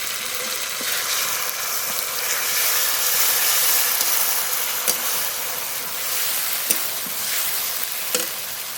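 Onion and green chilli fry in a pan with a steady, broadband sizzle that swells and eases, broken by a few sharp clicks of stirring, close and alone without any voices.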